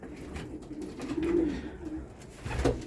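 Racing pigeons in a loft, where the males and females are not yet separated, give soft low cooing in short rolling phrases over a dull room background.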